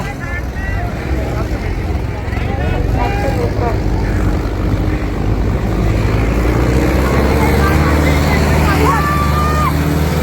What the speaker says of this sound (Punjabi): ਹੁਣ ਤੀਸਰਾ ਟਰੈਕਟਰ ਤੀਜਾ ਜਿਹੜਾ ਸਟਾਰਟ ਹੋ ਚੁੱਕਾ ਇਸ ਦਾ